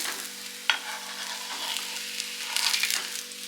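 A fasting thalipith flatbread roasts in a pan with a steady soft sizzle and a few faint scraping touches from a spatula. It sounds close and fairly quiet, with no talk.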